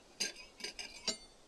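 Cutlery sounds for steak eating in the Omori video game: four quick metallic scrapes and clinks of utensils, spaced unevenly, close and alone.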